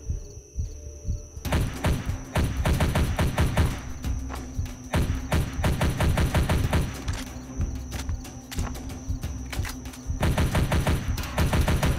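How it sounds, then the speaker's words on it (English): Gunfire and grenade blasts in a horror video game, a dense barrage of rapid repeated shots and thuds that keeps going almost without a break, loud and close with no voices over it. "Yeah, the grenades, I really hate the grenades."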